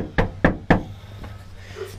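Three sharp, evenly spaced knocks on a door ring out close by, followed by quiet room sound.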